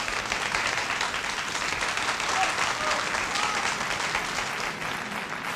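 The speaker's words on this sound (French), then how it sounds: "Applaudissements." Deputies of the French revolutionary National Convention break into sustained applause, a thick, uniform roar of many hands clapping at once, steady and full throughout without any break.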